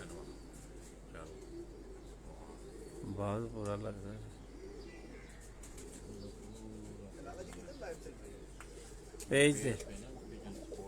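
Pigeons coo in a couple of soft, throaty bursts, one near and one louder, over a quiet background while people talk now and then.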